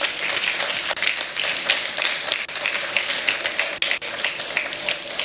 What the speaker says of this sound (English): I believe we can make the applause a bit louder for the Honorable Minister.